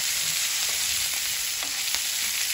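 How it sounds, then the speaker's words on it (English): A ribeye steak is butter-basted in a hot pan with rosemary, garlic, thyme and pepper, giving a loud, dense, unbroken sizzle close up, with faint spoon taps and spattering pops over it and no talk. "basting the steak"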